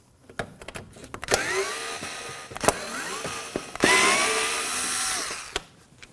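A screwdriver whirs out Phillips screws from the front bumper trim of a 2016-2020 Kia Sorento, in several short whining bursts with clicks between them, the longest near the end.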